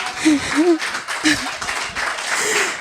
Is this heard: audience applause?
yes